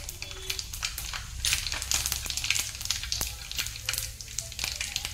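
Mustard seeds and cumin sizzle and crackle in hot oil with a steady close hiss and dense rapid pops throughout, with occasional stirring and no talk.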